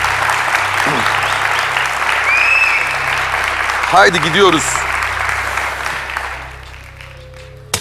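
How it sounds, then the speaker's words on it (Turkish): Studio audience applause on a Turkish game show, sustained clapping from the crowd with a host's voice briefly speaking over it midway, fading down near the end. "Bir alkış daha ister bence burada"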